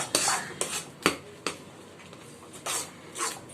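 A spoon scrapes and clinks against a pan while kesari colour is stirred into rava kesari, several sharp intermittent strokes at close range with quiet pauses between them.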